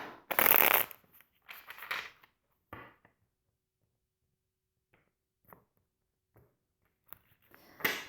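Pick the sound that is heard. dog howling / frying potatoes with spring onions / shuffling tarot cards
shuffling tarot cards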